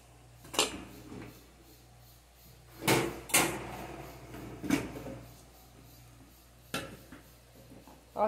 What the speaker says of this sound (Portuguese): Agora nós vamos abrir a panela para ver como é que ficou a nossa costelinha.